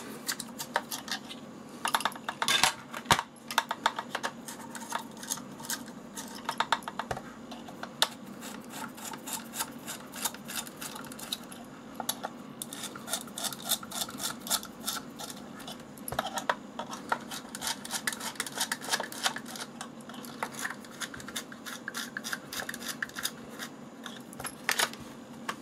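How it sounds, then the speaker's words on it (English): Screws being removed from a Retroflag Mega Pi console case, with small repeated metallic clicks and ticks of a screwdriver and parts handled up close, scattered irregularly through the span with no talking. "let's just take the screws out."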